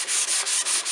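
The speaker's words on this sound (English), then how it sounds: "hand sanding with a block sander." Hand sanding a subwoofer box with a block sander, a steady loud scratchy rasp with brief dips marking each back-and-forth stroke, close up and with no talking.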